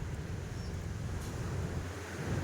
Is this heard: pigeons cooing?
no